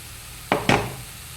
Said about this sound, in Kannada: ಇವಾಗ ರುಬ್ಬಿಟ್ಟ ಮಸಾಲೆ ಹಾಕ್ತಿದ್ದೇನೆ.